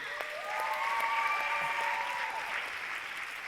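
Audience applause fills a church, a steady, continuous clatter of many hands at moderate volume, with faint sustained tones beneath it and no talking.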